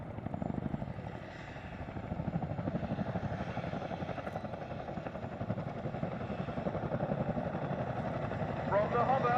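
A military helicopter hovers in a display at the Cosford Airshow, its steady rotor chop and engine drone holding loud and close throughout, with a commentator talking over it.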